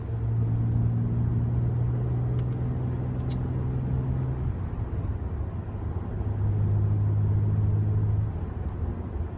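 A BMW E90 with a manual transmission downshifts from fifth to fourth, heard as a loud, steady engine drone from inside the car whose pitch drops briefly and then settles back into a constant hum.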